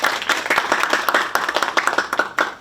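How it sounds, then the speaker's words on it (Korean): Audience applause at a Jeju women and family policy forum, a steady burst of many hands clapping fairly close, dense and even over about three seconds with no talk. "박수를 부탁드립니다."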